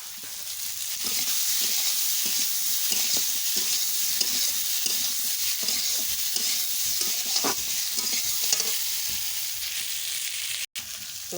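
Ginger, cumin and chili paste frying in a village kitchen pan, a loud continuous sizzle with repeated scraping strokes of a spoon stirring it, close and uninterrupted, no talking.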